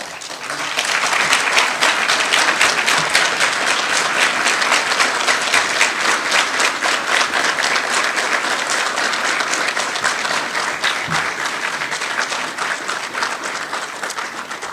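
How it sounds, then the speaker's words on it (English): Sustained applause from an audience at a Palm Beach County Fire Rescue graduation ceremony for Class 90, a dense, steady wash of clapping from a large crowd lasting the whole stretch. "let's give everybody a round of applause for showing you love and support."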